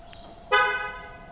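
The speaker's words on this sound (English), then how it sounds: "Maybe that beeping is telling me that the car is not locked" An LDV T60 ute sounds a single short horn-like beep, signalling it is unlocked. The tone starts abruptly, is loud and close, then fades over about half a second against a quiet background.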